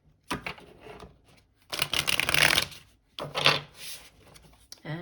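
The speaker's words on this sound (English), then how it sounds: "we're doing one final shuffle here" A deck of tarot cards is shuffled up close in several rough, riffling bursts separated by brief pauses, the longest and loudest burst falling in the middle.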